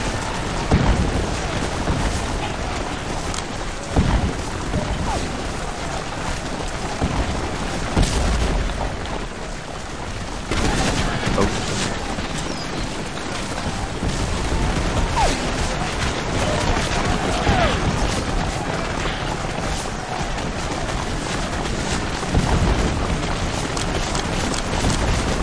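Musket volleys and booming cannon fire ring out across a Second Manassas Civil War battlefield in the strategy game Take Command 2nd Manassas, a dense, continuous rumble of overlapping shots and blasts with occasional sharper cracks.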